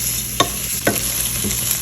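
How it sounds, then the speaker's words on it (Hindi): Boneless chicken frying with spices for chicken jalfrezi, a steady close sizzle broken by a few quick stirring scrapes in the pan. "अब हल्का से इसको मसालों के साथ फ्राई करते हैं।"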